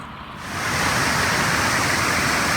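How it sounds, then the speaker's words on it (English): Small roadside waterfall along a road toward Bristol, rising from a quieter start into a steady, full rushing roar of falling water that holds close and loud throughout, with no voices. "came across this pretty little waterfall"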